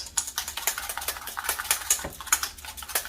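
A whisk beats egg and lemon mixture for avgolemono, a Greek egg-lemon chicken and rice soup, with quick, steady, rhythmic clicking and scraping against the bowl, close and continuous, with no voices.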